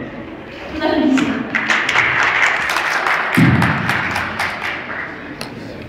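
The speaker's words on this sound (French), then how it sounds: "Nous applaudissons." Audience applause after a presentation builds and holds steady, a dense patter of clapping with a few louder individual claps and a thump partway through.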